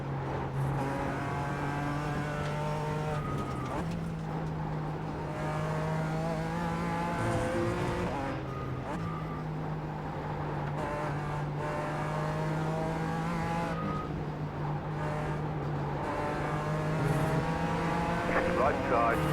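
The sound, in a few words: faster BMW M4 GT4 race car approaching in iRacing video game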